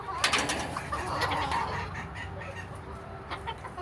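Chickens and a rooster clucking and cooing close by in a coop, a steady overlapping murmur of soft calls with a few sharper clucks.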